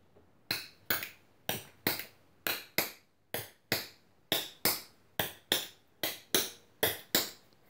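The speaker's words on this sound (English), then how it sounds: "Other foot, flap, ball change." Tap shoes striking a floor in beginner flap ball-change steps, crisp close taps in quick pairs and groups, repeating in an even rhythm with no talking.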